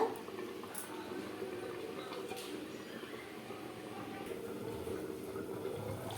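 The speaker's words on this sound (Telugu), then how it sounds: "ఉడుకుతుంది కూర." Fish curry (chepala pulusu) with tamarind simmering in a pot, a faint, steady bubbling with soft wet pops and gurgles close by.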